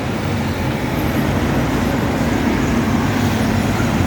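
Dense expressway traffic rolls past a KMB bus stop in a constant loud, close roar of engines and tyres. Heavy buses and trucks rumble through it with no break, and no one talks.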